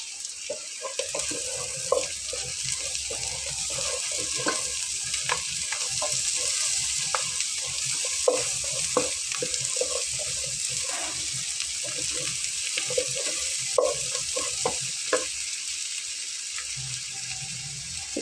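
Chui jhal (chilli stem) hits hot oil for a Bengali beef curry, giving a steady sizzle and crackle of frying with occasional clinks and stirring over the whole stretch.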